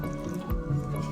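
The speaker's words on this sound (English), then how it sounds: "Will you pour some milk in there for me?" Milk goes into a cake mixture in a bowl, a short wet drip and squelch up close, soft and brief against a quiet room.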